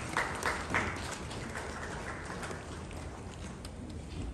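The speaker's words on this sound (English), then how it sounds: "A round of applause for her." Crowd applause at a formal ceremony swearing in goodwill ambassadors in Ghana, a steady wash of clapping heard from a distance, fairly faint and fading slightly over a few seconds.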